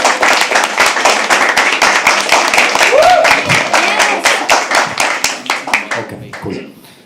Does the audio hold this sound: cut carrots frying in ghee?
no